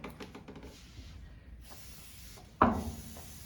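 A short burst of aerosol lubricant sprayed onto an AR-15 bolt during rifle cleaning, a single sharp hiss starting near the end and trailing off, close by over quiet room noise.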